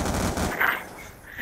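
Automated sentry gun firing in a first-person shooter match, a rapid burst of gunfire up close that tapers off after about half a second, followed by quieter game noise.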